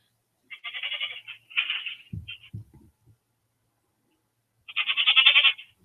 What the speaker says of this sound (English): So you can hear the baby goat.